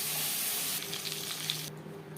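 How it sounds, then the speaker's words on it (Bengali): Five-spice and torn bay leaf pieces frying in the oil left from frying koi fish: a loud, close, continuous sizzle that softens slightly after about a second. "মাছ ভেজে নেওয়া তেলে দিয়ে দিলাম 5 ফোড়ন তেজপাতা"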